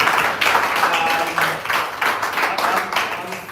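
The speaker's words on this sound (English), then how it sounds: "Big round of applause again, guys." Applause from the audience at an employee speech competition, a fairly loud, uneven burst of clapping that swells and dips in waves for several seconds, with faint voices mixed in.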